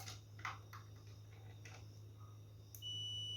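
A multimeter testing a refrigerator thermostat sounds a steady, thin continuity beep that starts abruptly near the end, after scattered faint clicks over a low electrical hum, with no talking.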